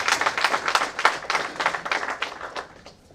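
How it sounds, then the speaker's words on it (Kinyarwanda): An audience claps for CorpsAfrica at a project demo day in Rwanda, a short burst of fairly close, rhythmic hand claps that fades out after about three seconds. "Ndagira ngo nsabe iyi mbaga rwose mu mpera amashyi CorpsAfrica."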